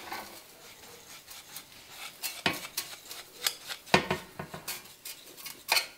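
Brown sugar is stirred into salt in a metal bowl for curing whole herring, giving close scraping and clinking of a utensil against the bowl in uneven bursts, with a few sharper knocks.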